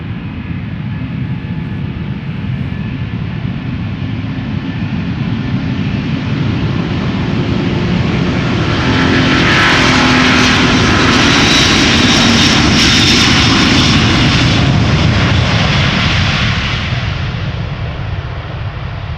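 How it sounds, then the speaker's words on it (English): A Delta Airbus A330neo jet roars at Schiphol Airport, a loud continuous engine drone that swells and brightens with a rising whine in the middle, then eases slightly, with no talk. "this is Delta Airlines Flight 57 going to Salt Lake City"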